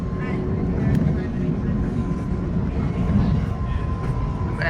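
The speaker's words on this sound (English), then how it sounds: "Woohoo! A freight train." A freight train rumbles past overhead, heard from inside a train near Circular Quay station, a steady loud low roar with rattling that holds throughout, with faint voices beneath.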